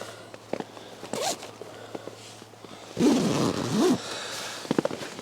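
A zipper on the ventilation opening of a Samaya Basecamp expedition tent is pulled in several quick, close, rasping runs, with rustling fabric handling between them.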